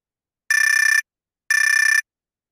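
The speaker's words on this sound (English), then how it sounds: "When time has expired, a bell will ring, which sounds like this." Zoom timer bell for a candidate forum, two identical bright electronic ringing bursts of about half a second each, one second apart, loud and clean against total silence.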